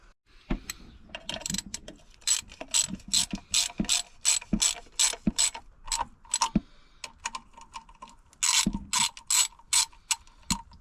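Nuts are tightened back onto a tensioned fan pulley of a Nissan 300ZX twin turbo with a hand ratchet, producing close, sharp clicking bursts in steady rhythmic strokes with brief pauses and occasional metallic knocks, with no talking.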